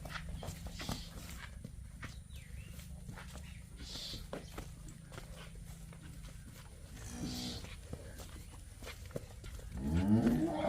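Faint farm ambience with a low moo midway, then a cow lows louder and closer at the end.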